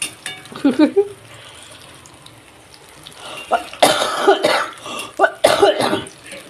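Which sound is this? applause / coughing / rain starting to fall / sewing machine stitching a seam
coughing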